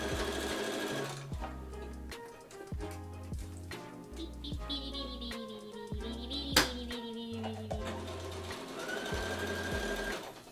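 A sewing machine stitching a lace outfit runs in rapid mechanical bursts, starting and stopping several times with short pauses and a brief clack between runs, close and clear.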